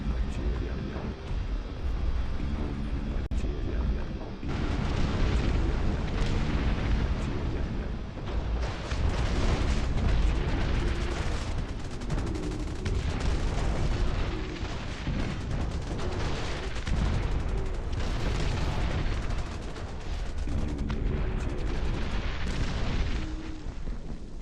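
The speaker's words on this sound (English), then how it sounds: "I think we're gonna need more howitzers." Howitzer artillery fire in the RTS game Dust Front, with dense, continuous booming blasts and rumbling impacts layered over one another at a steady loud level for the whole stretch.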